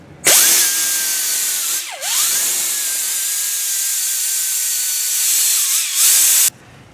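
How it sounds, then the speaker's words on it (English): A power drill fitted with a Scotch pad whines steadily while scrubbing rust off the seal surface of a Ford Expedition/Explorer front spindle. The loud, close whine dips briefly twice as the speed drops, and no one talks. "I'm going to use a little cookie over here, a Scotch little pad, and clean all this rust out of here where the seal rides on."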